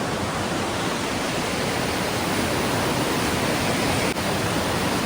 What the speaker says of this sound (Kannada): ಈ ನೀರಿನ ಸದ್ದು